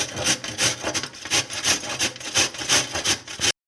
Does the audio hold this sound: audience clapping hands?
no